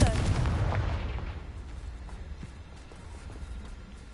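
A Confringo fire spell goes off in the video game Hogwarts Legacy, a loud booming blast right at the start that decays over about four seconds into a rumbling tail.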